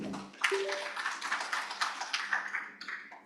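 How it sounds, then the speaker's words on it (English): Audience applause welcoming an engineering organization's overall chairman to give closing remarks at a convention event, a steady broadband patter of many hands clapping that swells and carries on for several seconds after a brief quiet start. "Warm round of applause, please."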